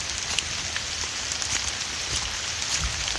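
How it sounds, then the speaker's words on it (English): Steady rain falling outdoors near a Vermont covered bridge in fall, a continuous even hiss of drops with faint scattered patter and no voices. "But it's raining out now."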